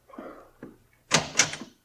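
A door in a radio drama sound effect: a couple of soft muffled movements, then a sharper clatter of knocks or a latch around the middle, close and fairly loud, with no voices.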